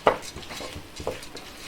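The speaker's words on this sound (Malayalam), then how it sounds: "2 മിനിറ്റോളം ഞാൻ ഇതുപോലെ നന്നായിട്ടൊന്ന് ഇളക്കി കൊടുത്തിട്ടുണ്ട്" Tomato rice being stirred in a pan with a spoon, giving a few light scraping and clinking strokes, one sharper near the start, fairly close and quiet, with no talking.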